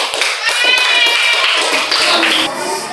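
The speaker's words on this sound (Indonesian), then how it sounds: "kita tepuk tangan untuk kelompok 1." A classroom group claps together for the first group after its presentation, a fairly loud burst of many hands under a faint hint of voices.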